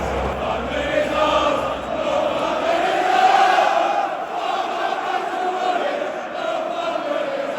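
Tottenham fans in the North Stand at the North London Derby, a massed chant and roar from a big stadium crowd, swelling and ebbing in loud waves at close range.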